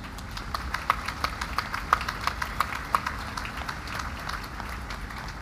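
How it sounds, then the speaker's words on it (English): Faint, distant applause from an outdoor crowd at a US Navy ship commissioning ceremony, with a few sharper claps standing out early on and then tapering into a soft background patter. "Please give yourselves a round of applause."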